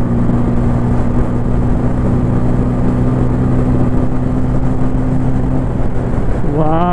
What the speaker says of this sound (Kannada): ರಪ ರಪ ರಪ ಅಂತ ಗೇರ್ ಚೇಂಜ್ ಮಾಡ್ಕೊಂಡು ಓಡಿಸ್ಬೋದು